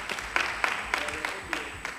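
Sparse, uneven clapping from a conference audience, a handful of separate claps spread over two seconds rather than a full ovation.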